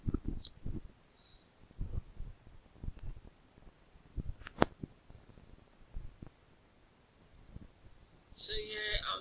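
Computer mouse clicks on a desktop during a crypto wallet setup, a few sharp isolated taps amid quiet low murmurs, with a brief louder burst near the end.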